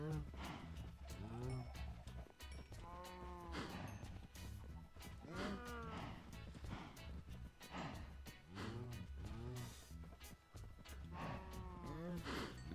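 Cows mooing in the Minecraft video game while they are being bred, a series of loud, drawn-out moos repeating every second or two against a low steady background.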